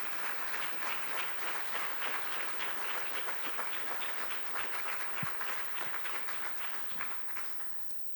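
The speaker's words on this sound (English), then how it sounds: "Can we get one more round of applause quickly for our new class?" An audience applauds a new class at an induction ceremony, sustained dense clapping filling the room throughout, easing slightly toward the end.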